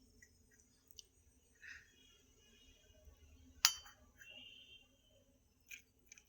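A spoon clinks once, sharply, against a bowl of kheer ice cream while a small child is fed, with a few fainter taps and soft mouth sounds around it in a quiet room.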